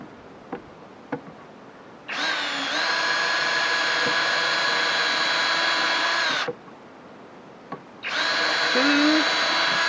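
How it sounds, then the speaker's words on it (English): Close, loud whine of a power drill biting into wood during a honeybee relocation, running for several seconds, pausing briefly, then starting again; a few light knocks come before it. "As you drill, want to push through 2 or 3 times as you go through"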